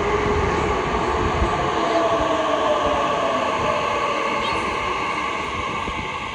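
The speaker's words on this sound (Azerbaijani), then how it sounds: "Bilirsiniz ki İstanbul'da qatarlar indi insansız çalışır." A driverless metro train pulls into an Istanbul station with a loud, steady rumble and a rising whine that fill the platform, no talk.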